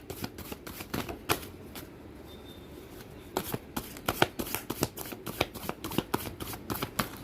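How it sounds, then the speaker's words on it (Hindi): Tarot cards are shuffled by hand in quick, crisp riffling bursts that repeat at an irregular rhythm, close and moderately loud, with no speech over them. "आपके सामने ही मैं यहाँ पर कार्ड पहले मिक्स कर लेती हूँ"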